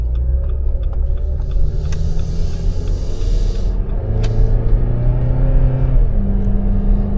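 A Dodge Journey drives on a test drive with a steady, close engine rumble and road noise from inside the car, the engine note rising and falling gently as it accelerates.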